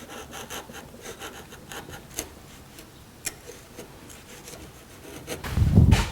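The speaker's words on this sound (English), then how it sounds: "I'm switching to a smaller chisel so I can get in a little bit tighter" A small wood chisel shaves and pares material in a workshop, giving faint scattered scraping ticks and a few sharper clicks, then a louder low thud of handling near the end.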